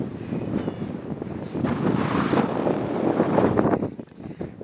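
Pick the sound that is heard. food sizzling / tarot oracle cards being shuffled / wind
wind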